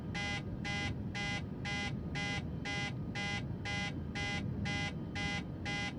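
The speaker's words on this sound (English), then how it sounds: "don't know what the alarm's going off for because we've got everything set." Repeating cockpit alarm in a Boeing 737 MAX flight simulator game, a steady electronic tone pulsing about twice per second in evenly spaced beeps over a constant low engine rumble throughout.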